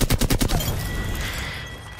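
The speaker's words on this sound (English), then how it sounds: "Can you not shoot that gun anymore?" Rapid automatic gunfire in a video game, a quick loud burst of about seven evenly spaced shots in half a second, followed by a fading rumbling tail with no talk.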